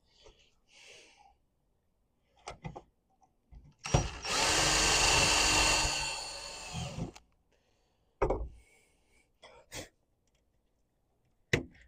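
A power drill enlarges a hole in a pickup truck in one loud burst of about three seconds, with quieter handling knocks and clatter before and after.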